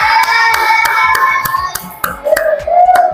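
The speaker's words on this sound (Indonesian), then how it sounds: "Tepuk tangan untuk kelompok 3." A school class claps for group 3, a quick run of sharp, evenly spaced hand claps close by, with a sustained tone running under the claps.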